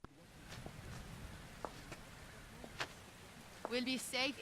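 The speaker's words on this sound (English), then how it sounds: "Seems to be raining somewhat." Rain falling in The Invisible Hours video game, a steady soft hiss with scattered drop taps, continuing beneath a voice that begins speaking near the end.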